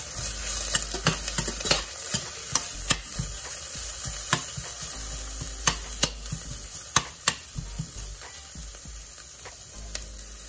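Onion and garlic sizzling in hot cooking oil for corn and malunggay soup: a soft, constant hiss broken by frequent sharp clicks and taps of a stirring utensil in the pan.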